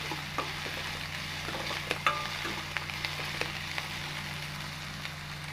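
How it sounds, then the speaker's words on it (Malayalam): Onions sautéing in a pan with a steady soft sizzle, broken by a few light clicks of a spoon stirring, close and moderately quiet with no talk. "ഈ ഉള്ളി നന്നായിട്ടൊന്ന് വഴണ്ട് കിട്ടണം"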